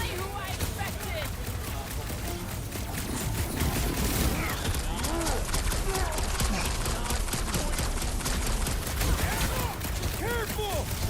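Sustained rapid gunfire and mechanical clatter from heavy Nova Corps cannons during a battle in the Guardians of the Galaxy video game, dense and continuous with voices shouting over the fighting.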